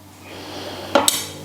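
A kitchen knife sharpened on a Tormek T1 chops food on a board, giving two quick, sharp knocks close together over a quiet room, with no talking.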